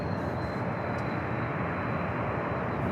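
An airliner at San Diego airport roars steadily during takeoff, a faint, continuous broadband rumble with a thin whine on top, no voices heard.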